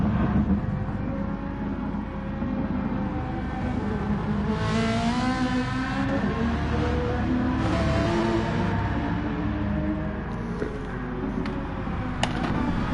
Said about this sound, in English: Noffelhonk is using the Ferrari